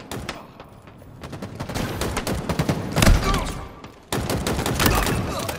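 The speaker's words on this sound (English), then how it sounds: "Machine guns suit you, Spartan." Machine gun fire in a Halo-style video game rattles in dense, loud bursts, building to a heavy impact, then breaking off briefly before another sustained volley.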